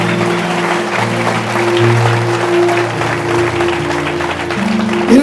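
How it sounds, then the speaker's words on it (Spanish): Congregation applause in a church service, a loud continuous wash of clapping blended with sustained low instrumental tones from music playing underneath. "Denle un aplauso a Dios"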